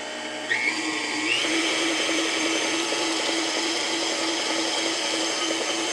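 Countertop blender running on its stir setting while mixing a low-sugar cheesecake, a loud continuous motorized whir that starts abruptly and holds steady throughout, with no talking.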